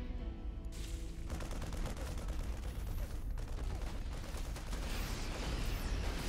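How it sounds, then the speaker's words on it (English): A missile turret in a video game fires on an incoming Bane drop: rapid, dense bursts of small shots with faint crackling impacts, fairly quiet and continuous. "Missile turret shoots down the Bane drop."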